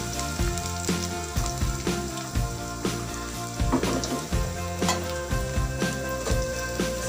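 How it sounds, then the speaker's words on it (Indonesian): Tempeh sizzles steadily as it fries in hot oil in a pan until dry and browned, a dense continuous crackle with occasional stirring clinks and no talk. "goreng sampai kering kecoklatan ya, udah mateng"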